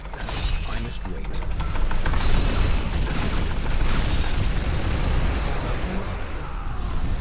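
An explosion in the Diablo 3 video game, a dense, loud rumbling blast that fills the whole stretch, with crackling bursts layered over steady game noise.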